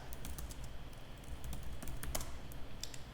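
Steady typing on a computer keyboard in a classroom: a quick, uneven run of clicks and key taps that continues without pause, close and moderately loud over a low background hum.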